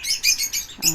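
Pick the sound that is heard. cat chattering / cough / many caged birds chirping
many caged birds chirping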